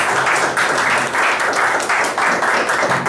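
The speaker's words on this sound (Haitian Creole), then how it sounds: "applaudissons l'entrée du sénateur Patrice Dumont" Sustained audience applause, loud and steady, greeting Senator Patrice Dumont as he enters a community meeting, with a faint voice under the clapping.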